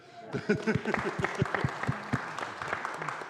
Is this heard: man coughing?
no